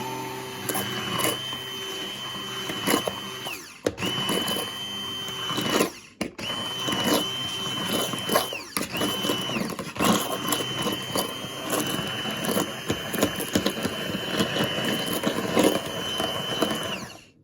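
A blender purees red plum sauce in long, loud whirring runs, broken by a few short pauses and restarts.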